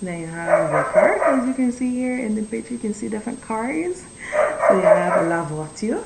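A dog barks and yips in the background of a room while a person teaches French vocabulary aloud, the short barks breaking through repeatedly beneath the steady speech.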